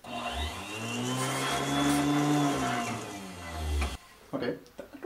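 A Mighty-Mite 4-inch table saw running on a resonating table, a loud steady hum with strong tonal whine that rises slightly in pitch midway, then cuts off abruptly near four seconds, leaving scattered clunks.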